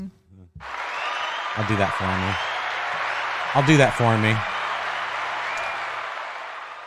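A sustained burst of clapping, like a small crowd applauding or a sound effect, runs through most of the clip at moderate loudness while someone talks over it in short phrases.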